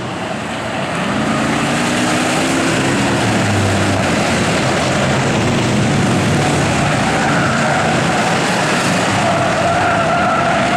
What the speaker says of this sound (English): Oh, Jeff Otto Jr. just T-boned David Verbeek